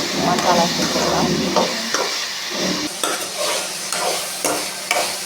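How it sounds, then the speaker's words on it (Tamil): Vegetables sauté in hot oil in a pan for sambar, a steady close sizzle with repeated stirring scrapes and clinks of a spoon against the pan, loud and continuous. "லைட்டாக இதில் எண்ணெயிலே வதங்கிடுச்சுன்னா காய் சீக்கிரம் வெந்துடும்"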